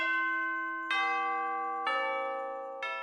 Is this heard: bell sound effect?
yes